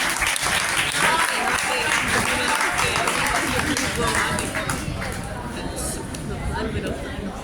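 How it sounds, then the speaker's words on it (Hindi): Loud, sustained applause from a student audience at a college freshers' party in Zaheerabad, welcoming a teacher on stage, with steady dense clapping mixed with crowd chatter throughout. "Please welcome him with a big round of applause."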